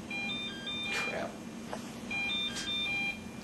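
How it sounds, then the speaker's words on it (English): An electronic device in a hospital radiation therapy setting gives short, high, tonal beeps in two clusters over a steady background hum, moderately loud, with no talk. "I'm beeping."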